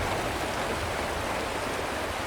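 Rain falling in Honkai Star Rail, a steady soft hiss of dense raindrops pouring without pause, fairly quiet and even, with no voices over it.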